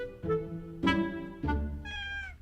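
Indoor cats in a cluttered home with many elderly cats give three clear meows in a row, close and fairly loud, the last one longer and rising in pitch.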